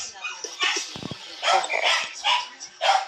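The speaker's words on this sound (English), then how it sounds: "Cute little dog." A small dog with only two front teeth barks in short yips and bursts, close by, several times over a few seconds, with people chatting faintly in the background.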